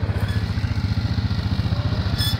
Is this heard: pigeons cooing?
no